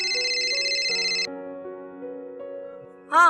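A mobile phone ringtone for an incoming call plays a bright, melodic electronic tune of sustained tones, loud and close with no talk over it, before breaking off into a short burst of another sound at the end.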